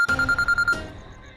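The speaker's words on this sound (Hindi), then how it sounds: "एगो जरूरी फोन आवत थे, तो फोन उठा के हम बात करते हैं" A telephone ringing in a household scene, a rapid electronic trill of six or seven even pulses, loud and close, then cutting off into faint room tone.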